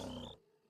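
A mammoth in the Minecraft video game lets out a brief, loud, deep roar that cuts off sharply after a third of a second, leaving quiet background.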